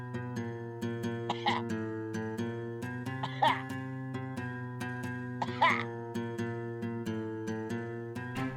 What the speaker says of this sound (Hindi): खांसिए।